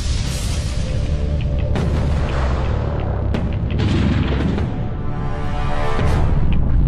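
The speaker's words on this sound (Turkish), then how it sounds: "dünyamız kozmik bir patlama sonucu meydana geldi" Cosmic explosion sound effect for the Earth's formation, a loud sustained rumbling roar with repeated deep booms and bursts across the whole stretch, no speech.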